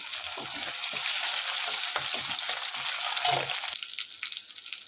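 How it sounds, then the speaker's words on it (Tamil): Vadam and green chillies frying in hot sesame oil for a garlic kuzhambu, a steady close hiss of sizzling broken by scraping stirs, the crackle easing slightly near the end. "நல்லெண்ணெய் காஞ்சிடுச்சு இப்போ வடம் போட்டுடலாம் பச்சை மிளகா போட்டுடலாம்"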